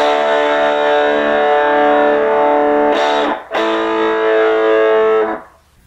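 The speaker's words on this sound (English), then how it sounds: "no preamp, just a distortion." A heavily distorted electric guitar through a Kokko distortion pedal, with no reverb, compressor or preamp, holds a thick, buzzing chord, cuts out briefly, then sustains again before being muted.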